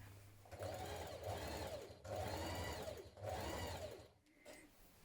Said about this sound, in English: So we're going to sew all the way around and then up either side of where your slit will be